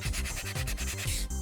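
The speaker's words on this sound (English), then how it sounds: "and then I just start sanding" Rhythmic back-and-forth hand sanding on a soft, brittle urethane foam blaster stock, quick repeated scratchy strokes up close with no voices.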